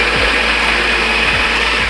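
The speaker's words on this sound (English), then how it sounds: "We're gonna hit puree." A blender on its puree setting whirs steadily and loudly, grinding carrots, green onions, broccoli and garlic in a continuous dense roar that holds for the whole stretch.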